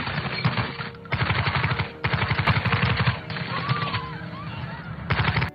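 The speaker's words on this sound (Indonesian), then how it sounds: "Dilanjutkan dengan aksi seseorang melepaskan tembakan membabi bagong" Rapid bursts of automatic gunfire in several long volleys separated by brief pauses, loud and harsh, with faint honking calls in the background.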